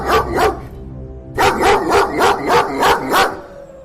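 Dog barking in a Hindi horror story, a couple of barks followed by a pause and then a steady run of five loud, close barks in rhythm.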